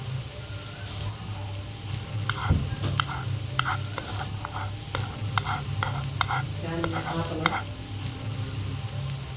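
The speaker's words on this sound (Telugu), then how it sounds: "చిటికెడు పసుపు కలిపిన తర్వాత పచ్చిమిరపకాయల పేస్ట్ వేసి కలుపుకోవాలి." Green chilli paste, salt and a pinch of turmeric stirred and fried in a pan for a moong dal and broad bean fry, with a constant loud sizzle and repeated scraping strokes of a spatula, no voices.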